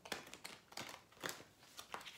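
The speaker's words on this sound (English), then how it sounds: "And we'll shuffle." Oracle cards being shuffled by hand, a quiet run of four or five brisk papery riffles and slides spaced about half a second apart, with no talking.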